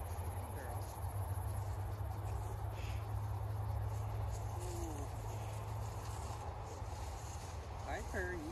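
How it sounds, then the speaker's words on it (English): Crickets chirp steadily outdoors, a thin continuous high trill that runs the whole time over a low constant hum, while people talk nearby. "crickets sound amazing over here."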